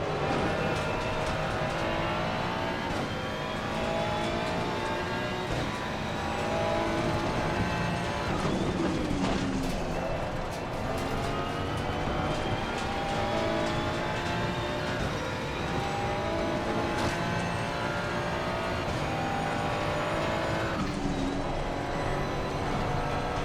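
A race car engine on a lap of Oulton Park in Assetto Corsa Competizione, loud and constant, revving up through the gears and dropping on downshifts over and over, with no voices.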